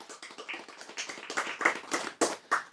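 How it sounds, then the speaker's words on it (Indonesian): A crowd at a religious lecture clapping, a dense patter of hand claps that keeps going steadily with uneven bursts, moderately loud. "Tepuk tangan."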